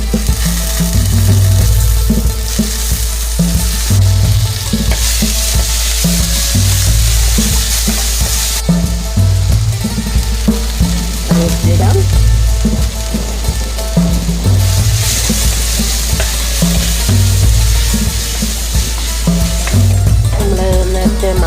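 Chili and garlic sauté for a prawn curry, a loud, close, continuous sizzle with rhythmic stirring scrapes of a spoon against the pan repeating every second or so, with no voices.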